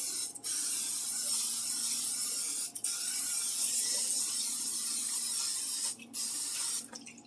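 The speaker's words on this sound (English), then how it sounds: "Go ahead and spray the bundt pan well." Cooking spray hisses from an aerosol can onto a bundt pan in long continuous bursts, broken by a few brief pauses, close and steady.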